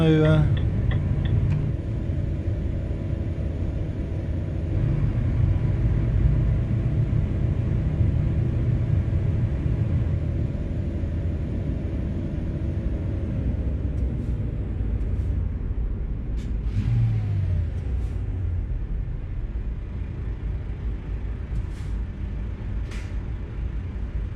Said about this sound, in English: loud little truck, at the least. Snap you through those first gears.